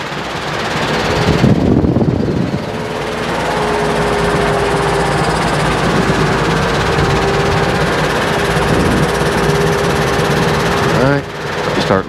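Robinson R22 helicopter engine and rotor during a practice autorotation, a loud continuous buzzing drone heard from the cockpit, with a pilot talking over it.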